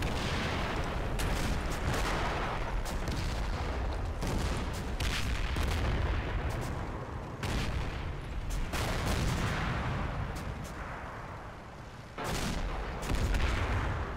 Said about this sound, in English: So the good news is that this is quite a lot of mortar fire.